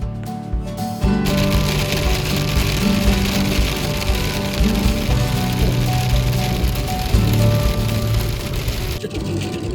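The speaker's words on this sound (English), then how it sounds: "Now it's hailing on us." Hail falling during a thunderstorm at a Central Oregon campsite, a dense, loud, continuous patter of pellets striking surfaces, beginning abruptly after a brief quieter moment.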